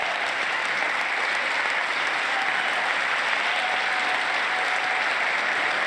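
A packed chamber at a State of the Union address applauds Intel CEO Pat Gelsinger, a steady, loud wall of clapping that holds evenly throughout without pause.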